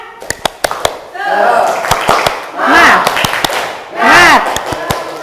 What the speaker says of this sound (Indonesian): saya punya tepuk semangat supaya kita lebih bersemangat dalam belajar